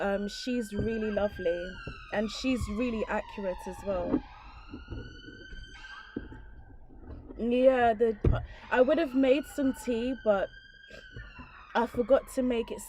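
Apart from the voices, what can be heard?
emergency vehicle siren passing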